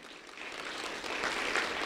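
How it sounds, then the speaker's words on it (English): Crowd applause swelling gradually, a steady patter of many hands clapping that grows a little louder toward the end, heard from a distance. "Round of applause for Sergeant Yadi Perez Luna."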